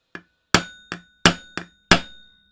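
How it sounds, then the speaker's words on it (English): A hammer driving a metal punch into a Dillon powder measure: six sharp, ringing metallic strikes spaced irregularly about a third of a second apart, loud and close, each decaying with a bright ring. "And now I'm gonna start hammering this in."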